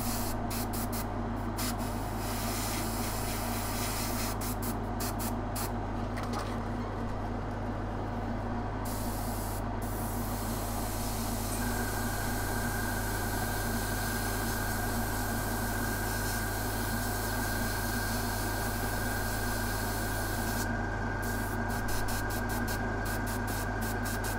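An airbrush sprays paint onto weathered Necromunda bulkhead scenery with a steady, close, continuous hiss that runs unbroken for the whole stretch with no voices.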